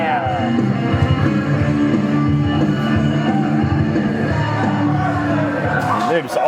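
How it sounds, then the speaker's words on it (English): A wrestling crowd at a UKW Friday Night Showdown event roars and chants for Cliff Harrison, a dense, loud, sustained wall of voices filling the arena. "you hear the crowd erupt for Cliff chants here"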